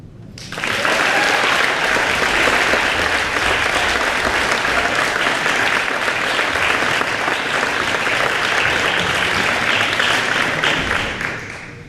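Loud applause at a poetry cabaret swells quickly, holds strong and steady for several seconds, then tapers off near the end.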